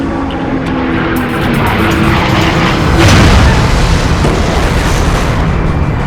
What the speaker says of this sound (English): The 109's steel propeller blades demolish the B-17's tail.